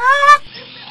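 A bird near an aviary gives one loud, close honking call, goose-like and lasting under half a second, followed by a fainter breathy tail.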